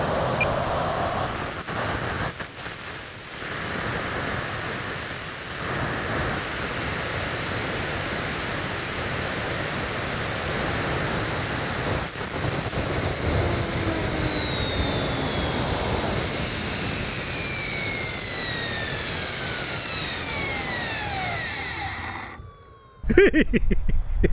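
A jet-powered RC car runs at speed with a loud, sustained turbine whine and rising and falling high-pitched tones, ending in an abrupt louder burst; no talk.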